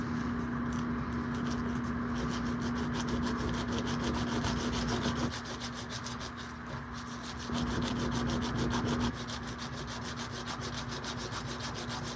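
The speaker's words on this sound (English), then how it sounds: "you want to take it from maybe a lower grit sandpaper" Sandpaper rubs steadily over a metal ring in fast, even back-and-forth strokes, close and fairly quiet, with a faint steady hum underneath and no speech.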